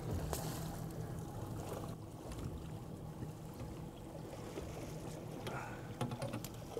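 Boat motor runs on a saltwater coho salmon fishing trip off Yakutat, Alaska, a steady low hum with light clattering and faint voices nearby.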